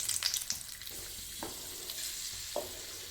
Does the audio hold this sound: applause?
no